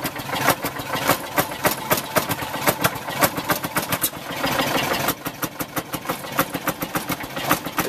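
A 1948 Fairmont M19-F rail speeder engine idles while warming up, its loud, steady chugging beat close by and uneven, with a brief smoother stretch partway through.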